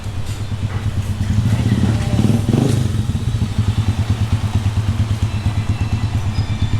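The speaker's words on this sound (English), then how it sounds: "Here comes the second bike." A motorcycle approaches on a tour ride, its engine swelling louder as it nears and then settling into a close, rumbling, rhythmic idle.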